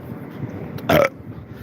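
A single short, loud burp from a man, standing out alone against quiet room tone.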